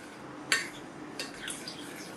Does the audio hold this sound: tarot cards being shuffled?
no